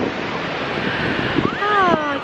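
Ocean waves wash onto a wide sandy beach at Newquay, Cornwall, a steady near surf roar with a voice briefly heard toward the end.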